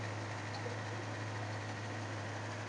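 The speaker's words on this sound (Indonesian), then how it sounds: "Ini kondisi mesinnya masih halus banget, masih stabil untuk stasionernya juga." An old Toyota Kijang engine idles smoothly and steadily, a low even hum with a constant mechanical whir and no change in pace, heard close with no voices.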